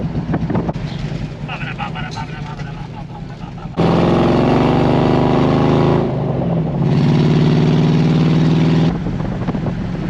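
A 1961 Corvette or 1957 Chevy V8 rumbles loudly in bursts at the shop, running steady for a few seconds, dropping off, then revving up again, with a voice briefly heard before the engine starts.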